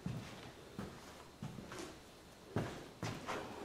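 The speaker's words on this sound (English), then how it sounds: "You can hear the wood in the windows slamming." Several hollow wooden knocks and bangs land at irregular intervals, fairly quiet and slightly distant, as wooden window shutters slam in a draft inside an old hall.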